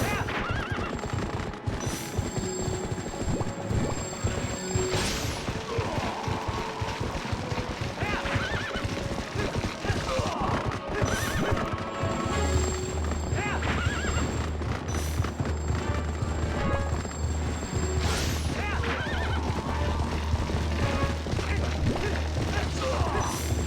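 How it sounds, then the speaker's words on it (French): In the GameCube game Zelda: Twilight Princess, a horse whinnies loudly several times over rapid clip-clop hoofbeats, with crashing battle effects and game music around it. "il va falloir que j'apprenne à maîtriser le cheval"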